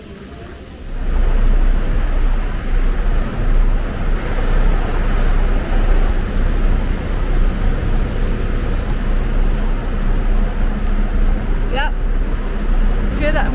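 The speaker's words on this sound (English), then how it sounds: "It's a little bit loud. I'm just come back to the central bus station in Skopje" Loud, steady traffic noise at the central bus station in Skopje, North Macedonia, a continuous low roar of engines and vehicles that begins abruptly after a quiet second and persists throughout with voices mixed in.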